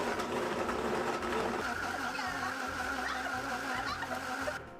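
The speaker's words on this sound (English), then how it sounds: "And now you're going to blend until smooth." An electric blender purees limes with water for a Mexican lemonade, its motor whirring loud and steady for several seconds before cutting off abruptly near the end.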